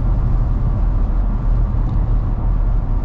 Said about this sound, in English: And the V8's just such a deep rumble.